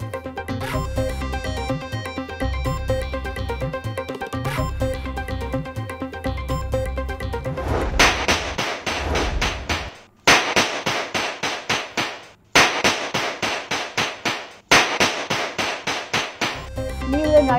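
Aerial gunfire from a viral video: after a stretch of music, rapid bursts of loud sharp shots crack out in dense clusters separated by short gaps, sounding outdoors.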